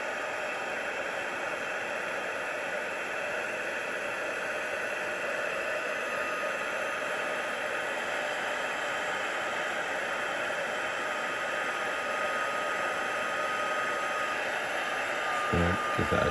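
A heat tool blows a constant, loud, hissing roar while drying paint on a handmade card, with no voices over it.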